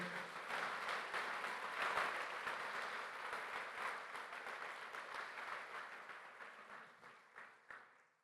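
A church congregation breaks into strong applause during a sermon, a dense sustained wash of clapping that gradually thins and fades toward the end, with a few last claps.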